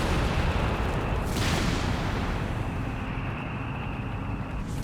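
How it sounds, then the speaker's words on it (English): A bomb explosion in the WWII strategy game Company of Heroes 3 sounds as one heavy boom swelling over a constant rumble of battlefield artillery and engine noise, with no voices. "There's the bomb."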